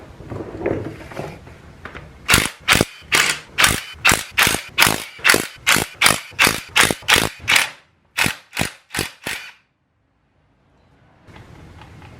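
A ratchet wrench backs out the 13 mm differential cover bolts on a third-generation Dodge Ram with a Cummins engine. It clicks in about eighteen loud, close bursts of rapid ratcheting with short pauses between them, then falls silent, and faint shop noise follows.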